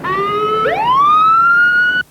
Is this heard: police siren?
yes